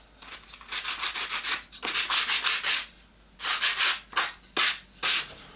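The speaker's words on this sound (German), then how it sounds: "er schleift auch noch ganz toll." Rhythmic rasping strokes of a hardwood sanding block on wood, close by, coming in quick bursts with short pauses between runs.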